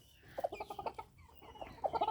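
Chinese Silkie chickens and a rooster cluck nearby in short, quick bursts, a pause between two clusters of throaty calls.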